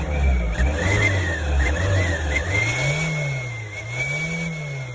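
A car engine revs and idles close by while a thin whistle from a small whistle gadget inside the exhaust pipe rises and falls with the revs.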